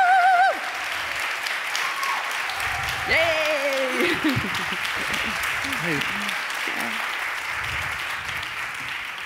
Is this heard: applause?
yes